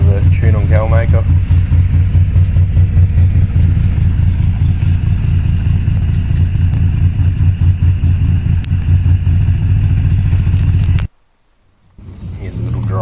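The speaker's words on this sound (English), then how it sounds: "Just a little idle video after the tune on Galmaker." A tuned Holden VY V6 turbo Commodore engine idles with a steady, loud low rumble and a regular pulsing beat, close by, before cutting out abruptly near the end and then returning.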